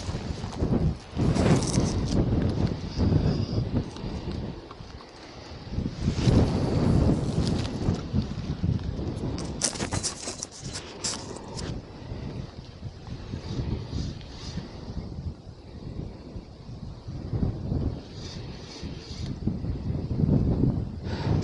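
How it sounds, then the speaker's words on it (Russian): Strong wind buffeting the microphone on a riverbank during a spinning-rod fishing trip from the shore, a loud, continuous rumbling roar that surges and eases in gusts throughout. "Ветрище невозможное."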